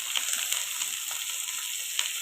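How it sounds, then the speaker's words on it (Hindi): Vegetables for Chinese kababs fry on a high flame in a pan, giving a steady, loud, close sizzle with small crackles and pops scattered throughout and no talking. "अब 1 से 2 मिनट के लिए हाई फ्लेम पर अच्छे तरीके से इनको फ्राई होने देंगे ताकि ये नरम हो जाए"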